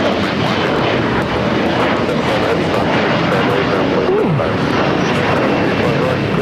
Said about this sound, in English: I believe this is the Cargo King 777